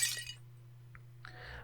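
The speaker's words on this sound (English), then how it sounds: "you hear a sound like glass breaking" A glass-breaking sound effect opens with a sharp, bright shatter, followed by a quiet gap and a fainter tinkling crash over a low steady hum.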